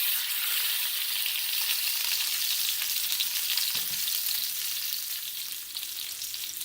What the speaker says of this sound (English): now that our sausage is finished sauteing in the pan